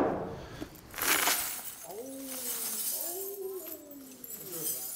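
Real glass shatters with a bright crash and scattered tinkling fragments, followed by excited voices shouting over the debris in an indoor group setting.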